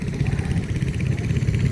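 An old Trusty tractor fitted with a Norton engine runs steadily at a ploughing day, its engine chugging in a fast, even rhythm at moderate volume from nearby outdoors.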